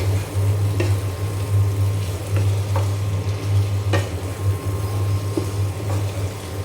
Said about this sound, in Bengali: এখন আমি ডাঁটা আর আলু দিয়ে দিলাম, এখন খুব ভালো করে কষিয়ে নেব।